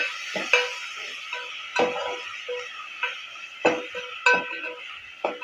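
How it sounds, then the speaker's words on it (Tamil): Onions and tomatoes being sautéed in a pan with salt added, heard as a steady sizzle with sharp spatula knocks against the pan at irregular intervals, about one every second. The sound is close and nobody talks. "அதையும் சேர்த்து நல்லா வதக்கி எடுத்துக்கலாம்."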